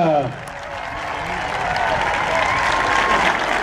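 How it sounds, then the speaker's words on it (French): Crowd applause for the Spanish under-21 team at a France–Spain match, a dense, steady roar of clapping that swells and holds, heard after an announcer's voice fades. "Un tonnerre d'applaudissements donc pour l'équipe d'Espagne."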